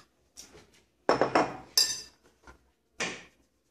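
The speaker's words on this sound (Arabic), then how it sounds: "نخلط هكذا بالملعقة" A spoon mixes pizza dough in a bowl, giving a few short, separate bursts of clinking and scraping against the bowl with quiet gaps between them, close by.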